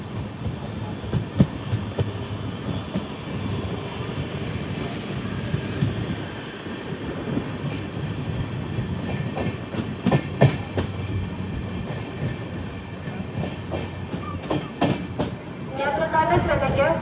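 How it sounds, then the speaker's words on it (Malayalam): An Amrit Bharat Express pulls into Aluva railway station in Kerala with a steady rumble and rhythmic clatter of wheels that swells toward the end, and voices can be heard around the platform. "ട്രെയിൻ ഇപ്പോൾ ആലുവ റെയിൽവേ സ്റ്റേഷനിലേക്ക് എത്തുകയാണ്"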